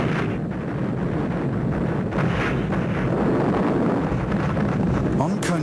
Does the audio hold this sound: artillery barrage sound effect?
yes